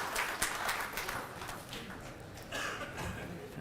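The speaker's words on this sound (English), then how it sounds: "Please, gentlemen, give round of applause." Audience applause at a business conference hall, a steady moderate wash of clapping that thins slightly midway then swells again, with a voice faintly present underneath.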